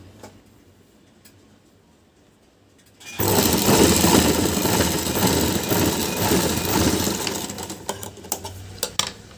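A sewing machine stitching a blouse buttonhole strip: a quiet room, then the machine starts abruptly and runs loud, close and steady to the end, without speech.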